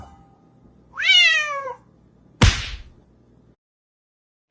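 A single drawn-out, rising-then-falling cat meow, fairly close and clear, followed by a sharp slap or whip-like crack, then quiet.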